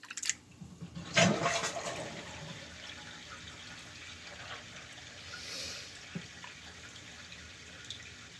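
Water running into a container with soap, a brief burst of gushing flow followed by a lower steady trickle and a few drips, fairly faint and close, with no voices.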